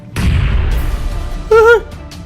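Gunfire in the mobile battle royale game PUBG Mobile, a dense burst of loud shots and booms running through the first half, then a brief tonal game sound, with no speech.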